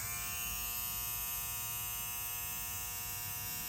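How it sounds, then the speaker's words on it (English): An electric shaver hums steadily and close, a constant buzzing drone with no pauses for the whole stretch. "Very powerful shaver. You can hear how powerful it is."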